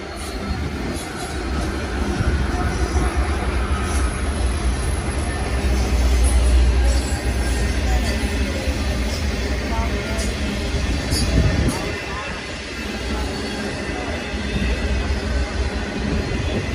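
A long freight train with a locomotive placed mid-train rolls past at a rail yard, giving a steady rumble of wheels and cars with occasional faint squeals throughout.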